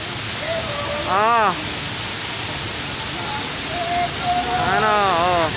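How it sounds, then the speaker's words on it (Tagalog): Heavy rain pours steadily as a broad, even wash of noise, with a voice calling out a few short exclamations over it. "Lakas ng ulan"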